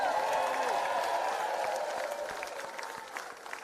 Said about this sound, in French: Applaudis David André pour son jolie composition